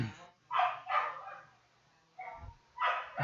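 A neighbour's dog barks in several separate bursts close by, with short gaps between the barks and a brief whimper-like sound mixed in.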